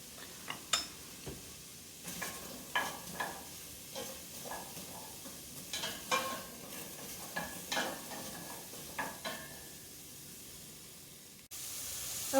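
Onions fry in a hot pan for a vegetable hash, giving a steady soft sizzle broken by repeated louder stirring scrapes, with no talking.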